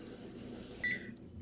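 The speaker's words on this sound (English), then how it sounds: "that timer is going off" A kitchen timer goes off with a single short electronic beep over the steady hum of a kitchen where rice and chicken curry are cooking.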